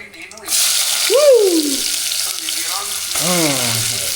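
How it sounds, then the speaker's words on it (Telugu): Cumin seeds sizzling in freshly added hot oil: a sudden hiss starts and holds steady and loud, with a voice speaking over it in two short bursts. "ఇప్పుడే ఆయిల్ వేసి జీలకర్ర వేసా"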